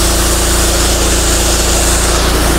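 A throttle-less Honda IGX engine on a pressure cleaner, rated 3500 PSI at 15 litres a minute, runs flat out at max RPM with a loud, steady, even drone and no variation in pitch.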